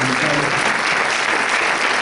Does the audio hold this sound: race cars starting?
no